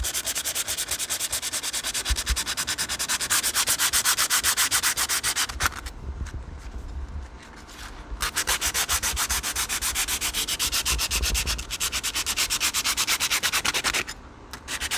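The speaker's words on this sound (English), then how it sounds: "So you want to sand pretty aggressively." Knife handle scales being sanded hard for a western-style knife, a loud, steady rasping scrub of back-and-forth strokes that runs almost nonstop, with two short pauses where the strokes ease off.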